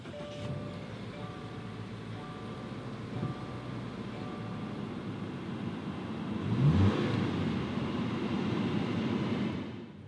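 A 2018 Subaru Outback Limited's engine is started by push button. A steady mechanical rumble swells noticeably around six seconds and then settles into an even idle, close up, with no talking.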